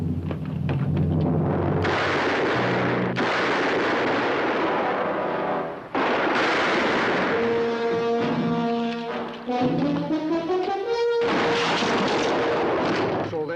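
Rifle shots ring out in a 1960s Western setting, several loud booming reports at irregular intervals with echoing tails, mixed with dramatic orchestral music.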